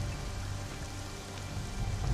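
Steady rain falls in the survival game Conan Exiles, a dense, even hiss of drops on surfaces that holds at a constant level throughout with no talking over it.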